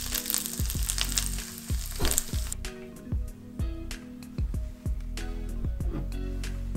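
Spice curry base stir-frying in oil in a frying pan, cooked down until the oil seeps out: a constant close sizzle punctuated by regular, rhythmic scraping strokes of a spatula, roughly twice per second.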